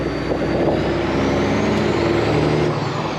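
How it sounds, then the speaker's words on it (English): Steady engine rumble of a warming-up classic Ford XL truck with a faint rising turbo whistle, close and continuous with no speech. "You can hear that turbo whistle a lot more"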